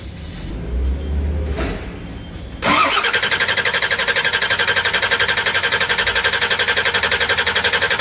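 A diesel engine cranks with a low grinding churn for a couple of seconds, then fires and settles into a loud, steady, rhythmic idle close up, with no talking.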